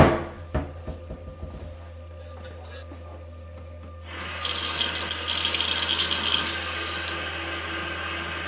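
A tap runs to fill a glass of water, starting after a few knocks and clicks and then pouring steadily and fairly loudly to the end.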